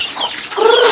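Native chickens cluck up close, loud and busy, with overlapping throaty calls and a rising squawk toward the end.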